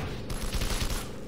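A loud, close burst of rapid automatic fire from an RPD machine gun in Garry's Mod Call of Duty zombies, shots blurring into a steady roar that fades at the end.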